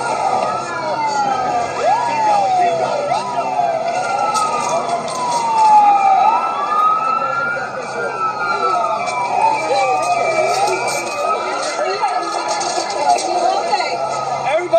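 A wailing ambulance siren sweeps up and down continuously over steady traffic rumble, loud and close throughout.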